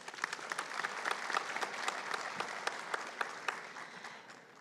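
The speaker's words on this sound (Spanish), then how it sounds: "Un fuerte aplauso para ella." Sustained applause from a conference audience at a public accounting congress, steady dense clapping throughout at moderate level with no talk over it.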